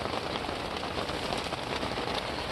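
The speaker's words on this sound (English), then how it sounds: "You can probably hear it as well. It's raining pretty good outside" Steady, dense rain pattering on a surface, a constant wash of drops with no pauses and no voices.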